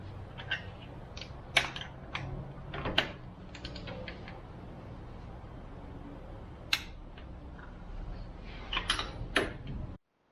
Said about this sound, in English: now I'm gonna torque them down to with the torque wrench to 21 foot-pounds